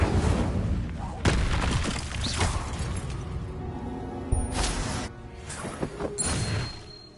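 Incendio fire spells cast in Hogwarts Legacy burst out as repeated whooshing, booming blasts with crackling impacts, coming in several close bursts amid other game effects.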